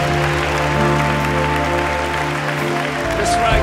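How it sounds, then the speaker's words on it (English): A church congregation claps loudly for Jesus during a worship service, the clapping steady over sustained organ-like music and low bass, with voices mixed in. "can you give Him a big clap right now?"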